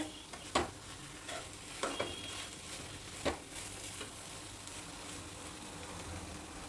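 Steady frying sizzle as ridge gourd and lentils stir-fry in a spice tempering, with a few sharp scraping clatters of a spatula in the pan, no talking.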